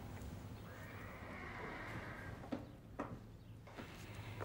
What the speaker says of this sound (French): c'est un vrai cheval